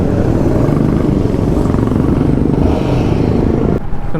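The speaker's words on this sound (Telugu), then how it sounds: "ఇది 450 gorilla 450 new engine, Sherpa engine అంటారు దీనిని" A Royal Enfield Guerrilla 450 with its new Sherpa 450 engine rumbles steadily while being ridden, a loud continuous motorcycle drone that drops away briefly near the end.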